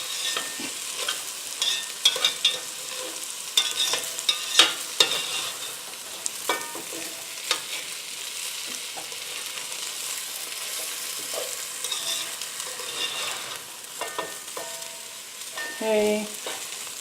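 Rice being stirred through hot oil and bacon grease for a bacon mushroom risotto, a steady broadband sizzle with scraping spoon strokes and occasional clinks against the pan throughout, no voices.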